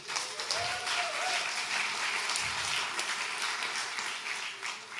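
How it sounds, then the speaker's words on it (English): Conference audience at a security talk bursts into steady, full applause, a dense wash of clapping sustained throughout without a pause. "Please give a warm round of applause for those people."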